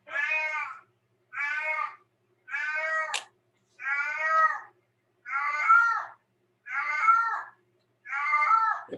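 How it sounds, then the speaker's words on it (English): A cat meows seven times in a row, each call drawn out and plaintive, evenly spaced with short silences between, loud and close with no other sound. "The poor cat."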